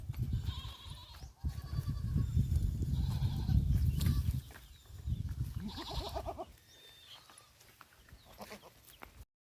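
A tethered goat grazes in a guava orchard, tearing and chewing green grass up close, with a few bleats and nearby fowl sounds.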